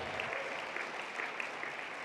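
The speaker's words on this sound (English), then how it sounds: "Let's give those people a big round of applause" Audience applause fills a fundraising gala, a continuous, even roar of many hands clapping, somewhat distant and unbroken from start to finish.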